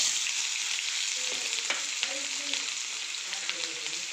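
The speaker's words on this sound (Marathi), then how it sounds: "तेल तापलेलं आहे आता आपण त्यात फोडणी टाकून घेऊया" Oil sizzling and crackling in a pan as mustard seeds are tempered, a steady hiss with small pops scattered throughout.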